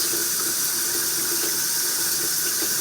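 Tap water runs in a steady, loud hiss at a sink as boiled eggs from an egg cooker are peeled, a continuous rush throughout with no talk.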